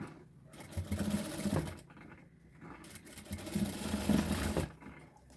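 A sewing machine runs in quick bursts as it stitches a pant seam, its needle patter starting and stopping close by, with no talk over it.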